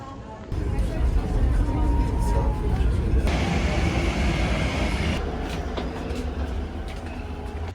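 A train or tram rumbles along with a loud, steady low roar and rattling, the interior noise shifting as the ride goes on.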